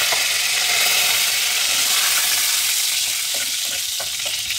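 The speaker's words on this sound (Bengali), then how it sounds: "এবার এই তেলে আমি প্রথমে দিয়ে দেব একটা তেজপাতা আর একটা শুকনো লঙ্কা" Bay leaf and a dried red chili crackle and sizzle in hot oil, a dense steady frying hiss throughout with a few faint stirring clicks near the end, for Bengali lau chingri.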